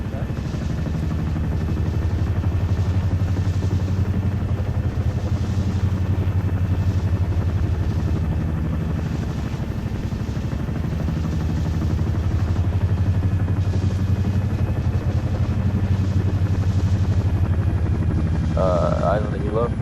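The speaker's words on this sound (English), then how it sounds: "Eyes on the helo." A helicopter flying in the video game ArmA 3, its rotors chopping in a steady, loud, continuous drone, with people talking over radio on top.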